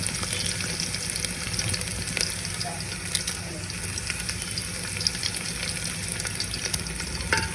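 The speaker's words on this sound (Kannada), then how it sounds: "ಈಗ ಒಣಮೆಣಸಿನ್ಕಾಯಿನ ಹಾಕ್ತಾಯಿದ್ದೀನಿ." Dried red chillies and garlic fry in hot oil, a steady close sizzle with occasional stirring clicks running throughout.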